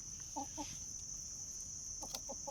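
A few short clucks from chickens, close by, in two small bursts over a constant high-pitched electronic whine.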